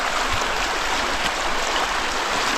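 Steady broadband rush of a river at Pedernales Falls in Texas, shallow after a drought, flowing continuously and fairly close throughout the short stretch with no voices.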